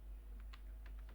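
Computer keyboard keys are tapped in a few quick, soft, irregular strokes as a search is typed, close and quiet against a faint steady hum.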